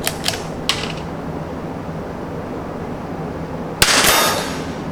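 A .22 LR rifle, a CZ or a Tikka, at an outdoor range: a few quick metallic clicks from the action, then one sharp, close report with a brief ringing tail.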